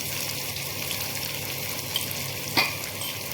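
Finely chopped onions fry in a pan for paneer do pyaza, giving a steady, even sizzle throughout with a brief clink of a utensil near the end; no one speaks.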